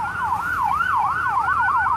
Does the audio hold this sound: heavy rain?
no